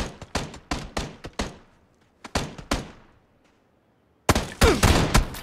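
Bursts of automatic gunfire in PUBG during a squad fight in the desert, several rapid volleys with short gaps, then a louder, denser barrage near the end.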